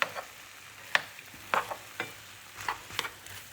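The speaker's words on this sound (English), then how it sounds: "So just give it a stir around." Chicken frying in a pan, a faint low sizzle under a series of distinct spatula scrapes and taps on the pan, about six stirring strokes at an irregular pace.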